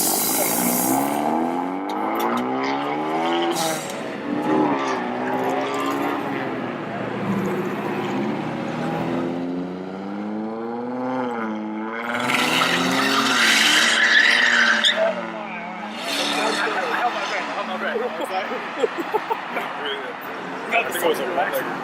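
Cars leaving the Hot Import Nights car show in San Jose in 2018 rev their engines and squeal their tires in burnouts, heard under nearly constant nearby crowd chatter.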